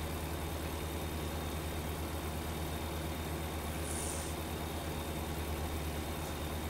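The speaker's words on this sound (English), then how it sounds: "Pulling down, I hear the engine coming down." Heavy diesel truck engine in American Truck Simulator crossing desert highway, a steady low drone with constant rumble throughout, no talking over it.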